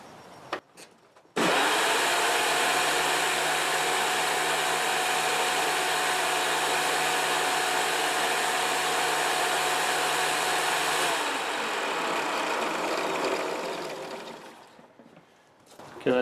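A Hoover Breathe Easy upright vacuum cleaner switches on with a click and runs as a loud, steady whining roar, then drops in pitch and winds down near the end.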